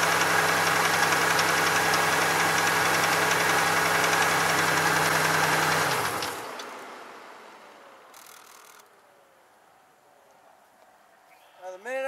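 A 2002 Chevy Malibu engine idling steadily and loudly up close with a constant hum, then shut off, its sound dying away into near quiet before a brief voice at the end.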